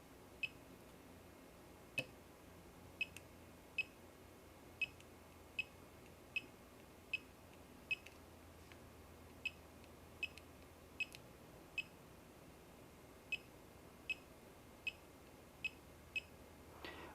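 A multimeter continuity tester in a custom data-recovery job emits a string of short, faint, evenly spaced beeps, around twenty in all, as each signal is probed one after another over a quiet background.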